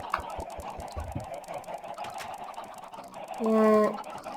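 Minecraft chickens clucking near a chicken spawner, short scattered clucks under game noise, then one louder, sustained tonal squawk near the end.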